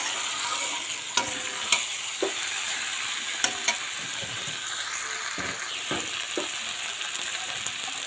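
Small fish being stirred as they fry in a pan for a home-style Bengali fish curry, with a steady close sizzle and repeated sharp scrapes and clinks of the spatula against the pan.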